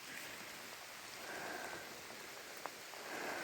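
Steady rain falls with a constant soft hiss, a faint distant patter and an occasional single drop tapping nearby.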